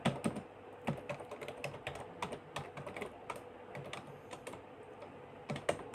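Computer keyboard typing while coding in JavaScript: quick irregular bursts of key clicks, close and fairly quiet, continuing throughout with short pauses and no talking.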